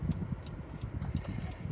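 A 2021 Honda Civic RS sedan's turn indicator ticks in a steady, even rhythm, faint and close inside the cabin, with no talk over it.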